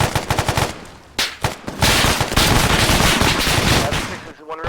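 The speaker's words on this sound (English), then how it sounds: "Gotta put heavy fire on those dudes." Heavy machine gun fire in the Arma 3 military shooter, long loud sustained bursts of rapid automatic shots after a few shorter volleys, close and dominant with no talk.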